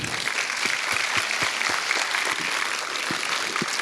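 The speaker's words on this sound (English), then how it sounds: "Would you applaud them and consider joining them this evening?" An audience at a youth health awards evening applauds steadily throughout, a dense, even wash of clapping from a moderately sized crowd heard from within the room.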